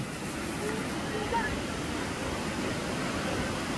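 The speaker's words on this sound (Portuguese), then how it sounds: "É um rio de água quente." A hot-water river runs through a cave, giving a constant rushing wash of flowing water that stays even and moderately loud, with a voice speaking briefly over it.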